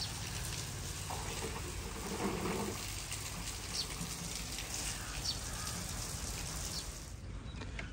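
Steady hissing patter of water being sprinkled onto soil, continuing for several seconds before stopping abruptly, with faint birdsong in the distance.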